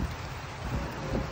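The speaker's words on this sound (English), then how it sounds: "it's starting to rain pretty good right now" Rain is beginning to fall outdoors as a steady, broad hiss that continues evenly throughout, with no speech.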